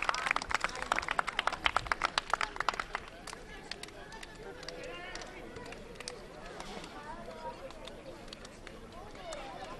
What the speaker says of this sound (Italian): Un applauso a questi ragazzi.